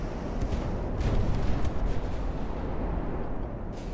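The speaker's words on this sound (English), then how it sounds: "I'm going to go ahead and fire with this battleship as well." Battleship guns firing in Ultimate Admiral: Dreadnoughts, a series of deep booming salvos rolling together into a continuous heavy rumble, loud and close.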